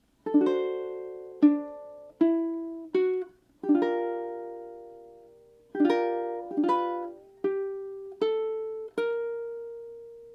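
A ukulele plucks a phrase as a dozen or so clear, ringing chords and notes in an unhurried rhythm, each decaying before the next, close and alone.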